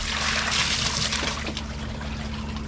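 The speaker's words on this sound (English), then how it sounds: "we'll just use a bucket or a hose and just kind of rinse off" Water from a hose sprays and rinses a cartridge pool filter, a steady close hiss and splatter that runs without a break.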